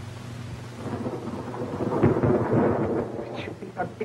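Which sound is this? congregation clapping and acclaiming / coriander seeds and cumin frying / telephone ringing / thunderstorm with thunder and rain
thunderstorm with thunder and rain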